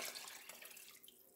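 Tap water runs steadily into a cooking pot for vegan lentil soup broth, a brief soft hiss of pouring water heard close and quiet.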